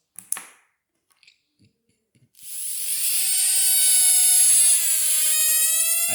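A tiny N20 motor in a printed housing spins up after a few faint clicks, settling into a loud, high-pitched whine with a slowly falling tone, heard close and alone.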